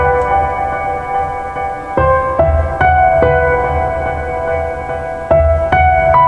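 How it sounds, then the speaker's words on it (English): Soft, airy Atmos piano chords from the Hypersonic 2 synth ring out one after another, each struck note sustaining with a shimmering, atmospheric tail. "what I added was the piano from Hypersonic 2, the Atmos piano,"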